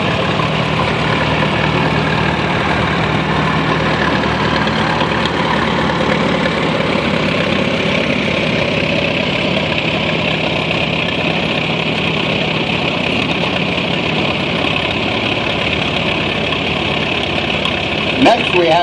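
A 1944 Case BAC antique tractor engine idles steadily and continuously at a low rumble, unchanging throughout, with no clear talk over it, at an antique tractor parade.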